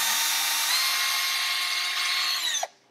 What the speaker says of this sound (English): We're drilling pilot holes for the screws.